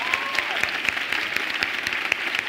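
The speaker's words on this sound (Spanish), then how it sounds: "Un aplauso para la Jorge" An audience claps steadily for a short burst on a Spanish talk show, with a crisp, even patter of hands at moderate distance.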